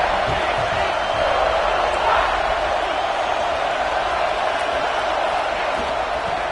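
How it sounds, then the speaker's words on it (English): A stadium crowd at a football game roars steadily as fans rise to cheer on the defense, a dense, sustained wall of voices that stays loud and even, with no distinct single shouts. "This crowd rising up, sensing that his defense needs some help."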